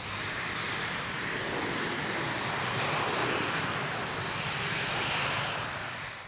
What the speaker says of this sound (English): The Viking is a carrier-borne anti-submarine aircraft, which has no equivalent in the British forces.